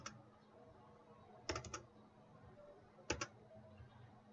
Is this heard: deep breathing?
no